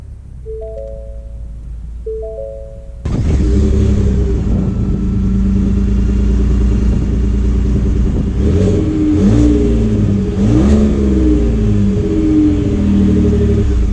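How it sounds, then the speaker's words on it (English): A few soft electronic chimes, then a 2019 Ford F-150 Lariat Sport pickup's engine fires up and rumbles loudly, revving higher a couple of times as it pulls away. "let's take this F-150 Lariat out to see how it drives"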